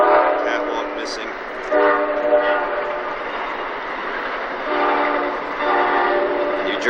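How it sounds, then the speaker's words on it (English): New Jersey Transit train passing nearby, its horn sounding in several loud sustained blasts over the rumble of the cars, in the aftermath of the December 1992 nor'easter. "New Jersey Transit train."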